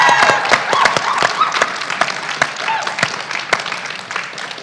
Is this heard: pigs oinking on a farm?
no